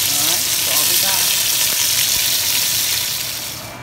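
Beef tips fry in a pan, a loud, close, steady hissing sizzle that fades slightly at the end.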